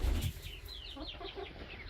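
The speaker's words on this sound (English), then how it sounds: "That's a young hen." A young hen clucks and chirps in short, soft repeated notes, close by, after a brief low rustle of handling at the start.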